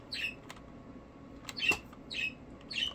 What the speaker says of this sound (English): Birds are really excited.